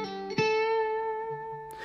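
Electric guitar playing a classic theme, a short note followed by a long sustained bent tone ringing out clearly, then a soft low note near the end, with no speech.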